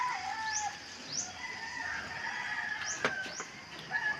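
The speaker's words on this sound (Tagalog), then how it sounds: "Nakahapon pa po ang mga manok." Chickens cluck and call intermittently against a quiet outdoor background, with a few short rising squawks scattered throughout.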